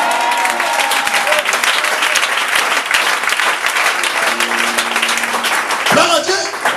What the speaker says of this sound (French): Et dis amen et acclame-le.